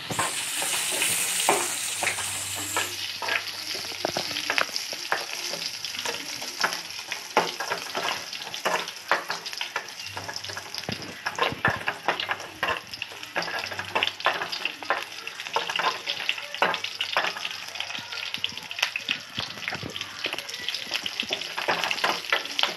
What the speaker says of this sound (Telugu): గోల్డెన్ రంగులో వచ్చేంత వరకు వేపాలి.